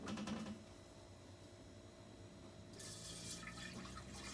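Distilled water being poured into a machine's reservoir, a steady liquid trickle that starts faint and grows louder and brighter toward the end, with no voices.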